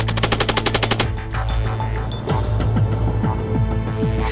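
FN MAG 7.62mm machine gun during live-fire training, opening with a loud rapid burst of evenly spaced shots, then continued firing and echoing reports over a heavy engine rumble.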